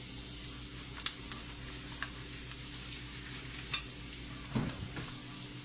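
Soft, steady sizzle of onions frying in coconut oil in a pan, with occasional light clicks and a scrape of stirring near the end; no talking.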